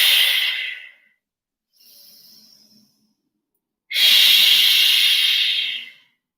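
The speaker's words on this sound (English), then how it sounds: "I want you to deep breathe into it" Slow, deep breaths held through a leg stretch, heard close and airy: a long exhale, a softer brief breath, then another long, strong exhale, with silence between them.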